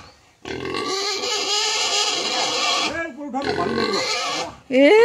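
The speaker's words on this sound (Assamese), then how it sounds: "গাহৰি কান্দা দেখি দে" A pig squeals loudly and repeatedly in long, harsh cries close by, with brief pauses between bursts and a sharp rising squeal at the end; people are talking around it.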